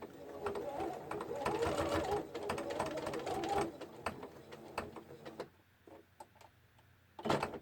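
Domestic sewing machine stitching layers of net lace, a fast rattling mechanical whir running steadily for several seconds, then stopping into quiet with a few isolated clicks and a brief final burst.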